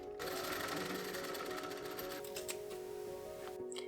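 A sewing machine stitches satin ribbon binding onto the edge of a late Victorian riding corset, running in a fast, steady mechanical whir that stops abruptly near the end, close and clear.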